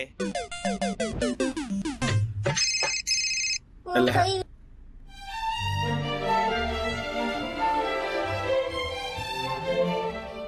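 A telephone rings in bursts with electronic bell tones, then a busy clamour of music and voices takes over.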